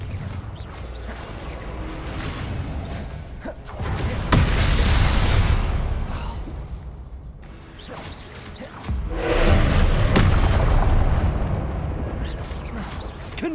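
Blasting spell explosions in a Harry Potter video game, with whooshing bursts and booms that build into two loud surges around four and nine seconds over a rumbling background.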